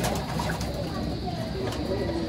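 Clacker racing pigeons coo softly and repeatedly against a steady noisy background, with faint talking mixed in.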